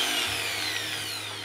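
A Diold angle grinder runs on its first speed setting, a steady high-pitched electric whine with a low motor hum, close and constant throughout with no talking.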